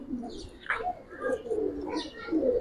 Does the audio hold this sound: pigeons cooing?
yes